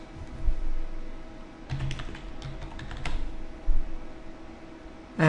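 Fingers tapping a computer keyboard while entering remarks in parts-catalog software, a quiet irregular burst of clicks over a faint background hum, with no talking.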